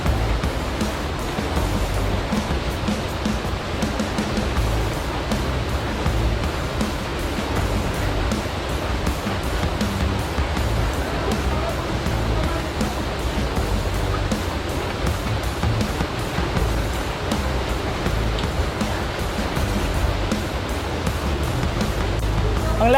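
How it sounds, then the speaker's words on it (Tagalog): Haduan Falls in Mabalacat, Pampanga, rushing as a continuous loud broadband roar of falling water, dense and unbroken from start to finish. "bali pupunta na tayo sa mismong falls ng Haduan."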